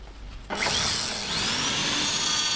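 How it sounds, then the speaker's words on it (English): A rotary chisel bites into a wooden egg on a lathe, a sudden loud whining, grinding cut that starts after a quiet moment and holds steady to the end. "And now it's time to just jump right in and make that first cut. I'll be starting off with the rotary chisel as usual."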